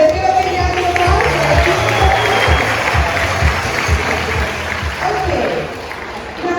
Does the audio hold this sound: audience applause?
yes